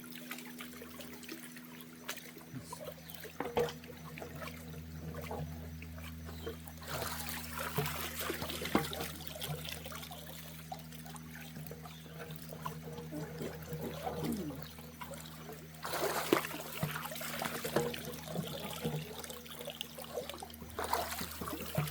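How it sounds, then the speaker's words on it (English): Water trickles and splashes steadily from a small leaking gold prospecting sluice, close and fairly quiet, swelling into louder gushing bursts twice, with no voices. "sluice, and it started leaking"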